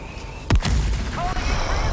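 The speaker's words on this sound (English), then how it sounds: "God damn it, these fucking mortars!" A mortar shell blasts in the game Helldivers 2, a sudden loud boom with a low rumbling tail, then a second impact close behind amid ongoing battle noise.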